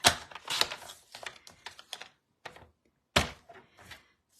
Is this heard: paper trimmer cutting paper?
yes